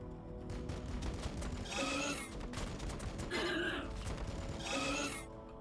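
Intercessor squads fire their weapons in the video game Battlesector, sounding as three separate bursts of rapid gunfire at moderate distance over a steady low background rumble.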